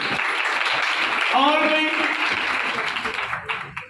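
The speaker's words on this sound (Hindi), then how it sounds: "आओ तालियां भाई के लिए" A crowd claps steadily for a man, with dense applause throughout while a voice speaks over it. The clapping thins out toward the end.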